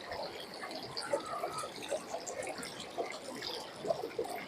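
Water trickling and splashing into a bottle at a mountain stream source on a high-altitude trek, a steady close liquid rush with small gurgling bursts throughout, no talk.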